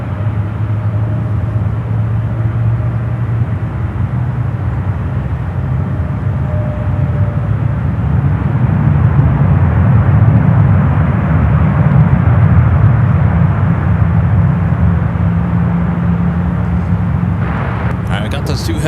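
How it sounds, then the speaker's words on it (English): A Korean Air heavy jet taxis at San Francisco airport with a continuous low engine rumble that swells slightly midway, running under talk. "Korean Air heading to 28 right for departure."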